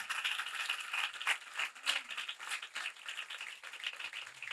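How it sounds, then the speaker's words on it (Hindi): A church congregation at a Sunday service claps and applauds in a dense, continuous patter with a rattling quality, sustained for several seconds without talk. "जरा जोरदार तालियां जाओ"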